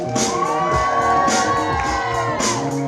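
Wedding guests cheer and whoop as the groomsmen are introduced at the reception, a loud lively crowd with voices shouting over steady music.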